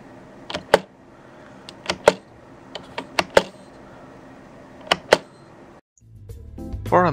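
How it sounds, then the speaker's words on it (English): Keys are pressed on a Slayer membrane gaming keyboard, some with a springy sound: irregular, crisp clacks, some in quick pairs, up close, before a different, more tonal noise takes over at the end. "Some of the keys have a spring sound that I didn't like."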